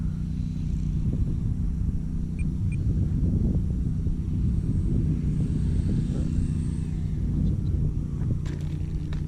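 A Hobbyzone Carbon Cub S2 RC airplane drones through a flight on its maiden outing. The steady propeller buzz holds even and fairly close, with a low rumble beneath, and no voices are heard.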